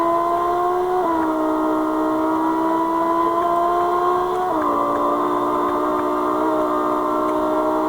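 A car's engine gives a loud, steady droning hum that steps down in pitch several times, as if shifting, with a faint ticking over it and no talk.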